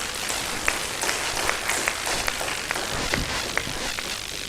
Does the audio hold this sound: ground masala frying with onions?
no